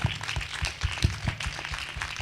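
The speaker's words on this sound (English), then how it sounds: "Can we have a huge round of applause for Ayesha, please?" Scattered clapping from an audience at the close of a talk, moderately quiet with distinct individual claps standing out over a soft, thinner wash of applause.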